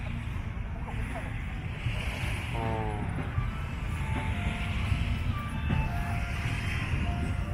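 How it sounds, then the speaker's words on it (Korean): Gentle, low surf at Pattaya's main beach in Thailand, a steady wash of small waves under constant wind noise, with faint voices and brief boat or beach sounds in the background. "여기가 좀 독특하게 파도가 잔잔한 것 같아요"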